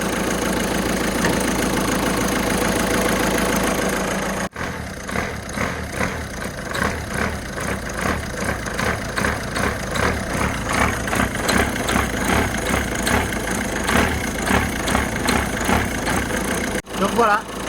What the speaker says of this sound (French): La courroie accessoire. Donc celle qui est fatiguée, il fait ce genre de bruit là.